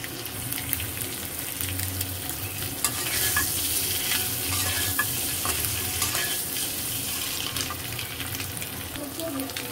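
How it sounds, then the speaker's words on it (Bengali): Eggs fry in a pan on a home stove, a dense steady sizzle and crackle, close up, with faint background clatter and a hint of voices behind it. "আমার ডিম ভাজা শেষ"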